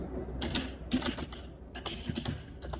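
Typing a YouTube search on a computer keyboard, a brief irregular run of close, quiet key clicks in small clusters with short pauses between them.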